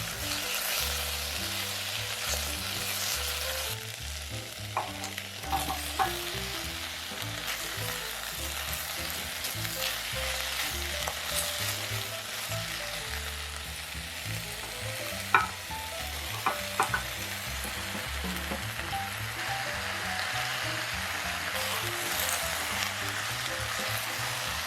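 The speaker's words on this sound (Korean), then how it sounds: "준비해둔 야채들을 차례대로 냄비에 볶으세요." Vegetables sizzle and crackle in a hot pot while a utensil stirs and scrapes intermittently, steady frying hiss throughout.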